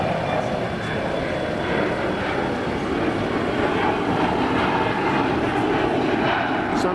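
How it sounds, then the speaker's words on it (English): A fixed-wing airplane takes off near an airport in Los Angeles, giving a steady, loud, broad roar that holds constant throughout, heard outdoors at a construction site. "Got an airplane taking off over here."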